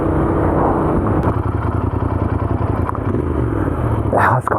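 A Royal Enfield Continental GT 650 with its standard exhaust runs in wet weather, its engine throbbing loud and close in a steady low pulse while a voice talks over it.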